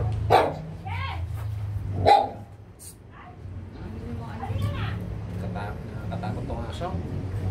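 A dog barks a couple of times, sharp and fairly close, amid background chatter and voices.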